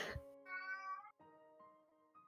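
A cat meows indoors with drawn-out, tonal cries, one longer call followed by a few shorter ones, fairly close and clear after a brief soft thump at the start.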